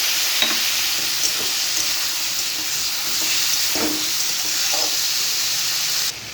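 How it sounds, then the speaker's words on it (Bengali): Slit chillies and cumin paste fry in hot oil for a pabda fish curry with eggplant and potato, a steady close sizzle with a few soft stirring knocks throughout. "এর মধ্যে দিয়ে দিচ্ছি আমি লঙ্কা চেরা আর জিরে বাটা"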